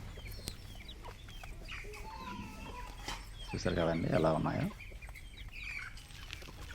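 Chickens and chicks cluck and peep at a poultry farm, a soft chattering flock with a louder burst of clucking midway, while a person talks over them.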